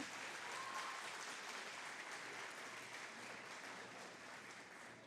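Steady applause from a church audience as children enter, continuous clapping, fairly distant and soft, with no break.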